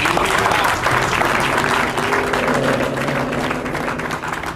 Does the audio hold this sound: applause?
yes